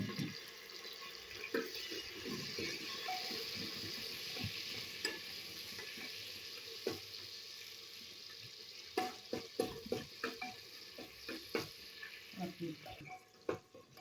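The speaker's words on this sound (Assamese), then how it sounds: "পিঁয়াজটো অলপ ফ্ৰাই কৰিব লাগে" Onions frying in a pan while cooking for a birthday party, a soft continuous sizzle with intermittent stirring scrapes and clinks, fairly quiet, with some voices in the background.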